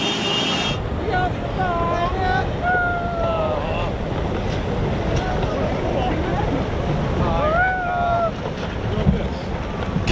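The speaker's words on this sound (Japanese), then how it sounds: "これ津波です。 完全な津波です。 ものすごい勢いです。" A tsunami surges through a town in Japan with a continuous, heavy roar of rushing water and gusting wind, while high, wavering tones drift in and out and faint voices sit beneath the noise.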